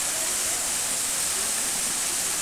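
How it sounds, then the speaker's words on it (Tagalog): Spring water from the mountains flowing steadily at an old resort in Silang, Cavite, a constant broadband rush with no clear breaks, moderately loud and close. "Salang-sala na ng kabundukan yung mga tubig dito na dumadaloy"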